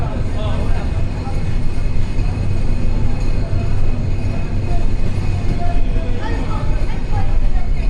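A passenger train pulling into Ishwardi Junction on the long Khulna to Dinajpur rail route, a loud continuous rumble of wheels and carriages, close and steady throughout.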